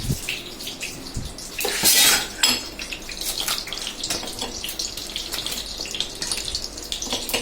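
Plates clattering and clinking in a home kitchen at a sink, with running tap water in the background, a loud burst of ceramic knocks around two seconds, then lighter scattered taps.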